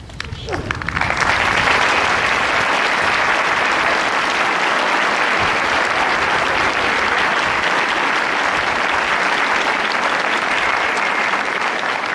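A crowd at a baseball field dedication applauds for Lou Brissie, with loud, dense clapping that swells in after a brief moment of voice and then holds steady, with some cheering voices mixed in.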